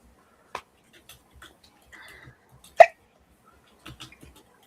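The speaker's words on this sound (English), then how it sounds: "I heard a hiccup." A single sharp hiccup pops out close to the microphone amid a quiet stretch with a few faint clicks and small mouth noises during a tabletop game session.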